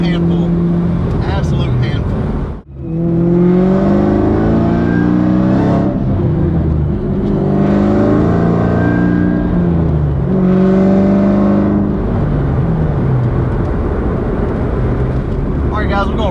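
A loud Cobra sports car engine revs up and down repeatedly, rising and falling in pitch with brief gaps between throttle pulls, close by.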